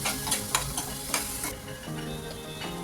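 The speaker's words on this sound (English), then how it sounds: "next we'll add about 2 tablespoons of dahi, Again mix it well" Roasted masala with yogurt (dahi) stirred in a hot pan, a constant sizzle punctuated by quick scraping strokes of a spoon, close and clear with no talking.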